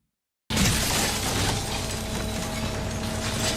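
A sudden loud crash of a mirror shattering, followed by a dense, sustained clatter and rumble of debris.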